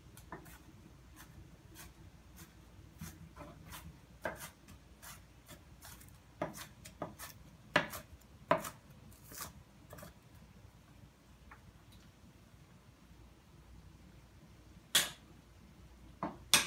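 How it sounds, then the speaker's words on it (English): A knife dices onions on a cutting board, giving irregular, close taps and scrapes, a few sharper and louder than the rest, with no talking. "It's really important that you dice up the onions."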